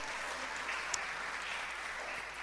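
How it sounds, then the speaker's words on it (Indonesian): Church congregation claps during a sermon, a soft, distant, steady patter of many hands heard briefly at low volume. "Tepuk tangan dulu buat ini, mantap."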